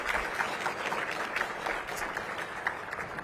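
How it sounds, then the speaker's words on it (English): Audience applause at a DC Chamber of Commerce small business event, a steady wash of clapping from a crowd, moderately distant and sustained without pause. "So give yourselves another round of applause."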